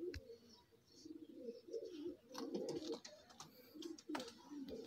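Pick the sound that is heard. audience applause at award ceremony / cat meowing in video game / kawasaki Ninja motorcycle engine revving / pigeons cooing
pigeons cooing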